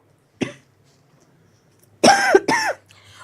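A single short cough, a pause, then two louder, harsher coughs in quick succession, close by.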